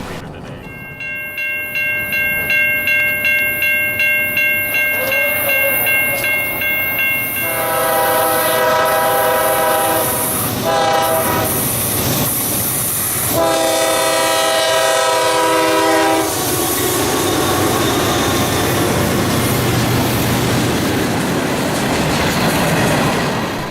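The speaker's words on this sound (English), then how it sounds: "Q551 is a mixed freight train that runs on the Fitz between Atlanta, Georgia and Waycross, Georgia." A mixed freight train running between Atlanta and Waycross, Georgia, passes by and sounds a loud, sustained multi-tone horn in repeated blasts over the steady rumble and clatter of rolling railcars.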